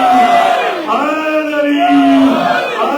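A crowd at a Jashan-e-Milad religious gathering shouts a slogan response in unison, a loud sustained chant with rising and falling voices.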